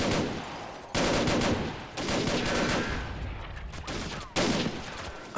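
Gunfire and rapid machine-gun bursts sound in a Totaler Krieg: 1939-45 mod battle with a British parachute platoon, loud and dense, with repeated fusillades broken by brief pauses.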